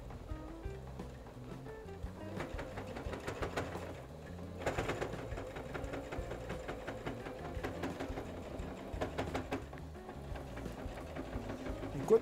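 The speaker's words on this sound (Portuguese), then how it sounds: "Enquanto ele está costurando a volta toda" A sewing machine stitches around the edge of a fabric piece in rhythmic bursts of rapid mechanical chatter with short pauses between runs, while a voice talks over it.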